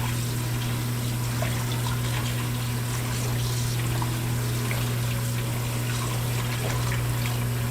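Running water rinses diced potatoes in a steady, even stream that flows without pause, with a constant low hum beneath it.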